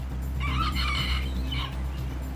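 Free-roaming cockerels and hens released from an aviary into a neighbourhood, clucking in a short burst of several calls at middle distance over a steady low traffic rumble.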